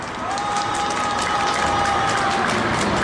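Crowd applause and cheering at a Friday candlelight rally for striking workers, a dense continuous roar of clapping and shouts that holds steady throughout.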